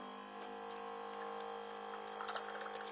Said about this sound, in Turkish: Ama suyu basıyor.